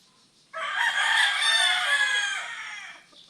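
A Sweater breed gamefowl rooster gives one loud, close crow lasting a few seconds, rising sharply and trailing off, with little else around it.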